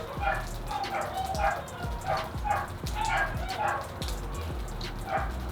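Several dogs bark and yip in short repeated bursts near a garage where a tuned 732 WHP Subaru WRX is kept, with rhythmic clanking sounds beneath, while a person talks over them.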